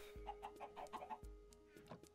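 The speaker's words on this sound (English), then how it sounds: "I hit a chicken" A chicken in the video game Minecraft gives a quick run of short clucks, then a few more after a pause, faint and close over a steady low hum.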